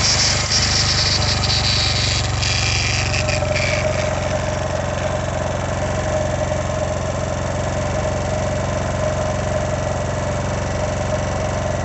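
A Smart SM-01-2000INV 2.0 kW petrol inverter generator idling with no load, a loud, close, even engine drone with steady low hum and no speech.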